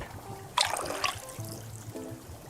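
Tea being poured in the cozy video game Wanderstop, a soft liquid trickle and splash that starts abruptly, runs briefly at moderate volume, then fades under faint game music and background tones.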